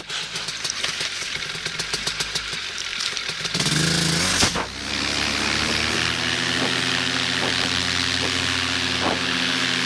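A paramotor engine revs hard through a low-wind takeoff, a loud steady drone with a brief surge and dip midway before settling into a sustained, even roar.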